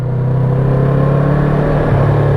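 Yamaha MT-03 300cc motorcycle engine under way, a steady low chugging drone with a faint growl and wind wash, even in level and without speech.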